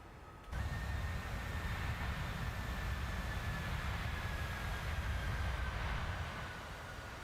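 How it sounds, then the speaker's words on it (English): The engines of a PMDG 737 airliner in Microsoft Flight Simulator 2024 give a steady, loud broadband roar with a faint high whine. It begins abruptly after a brief quieter moment and holds constant throughout, with no talk. "Today the airplane is sounding really nice."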